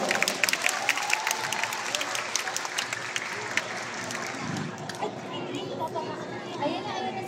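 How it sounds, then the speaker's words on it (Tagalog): A crowd claps in a dense burst of applause, loud at first and then thinning, with children's voices chattering and calling out underneath. "Palakpakan natin si Yorme Moreno Duroso."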